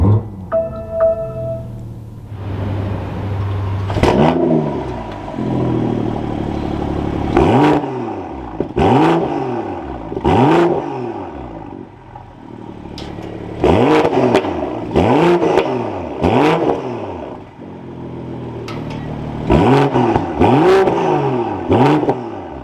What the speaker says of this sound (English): keeping my foot on the brake, we can go ahead and fire it up.